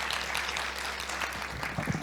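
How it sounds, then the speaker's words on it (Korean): Applause fills a symposium hall for the panelists of a public rental housing discussion, a dense, steady patter of many hands clapping at moderate volume. "토론 참가자분들께 큰 박수 다시 부탁드리겠습니다"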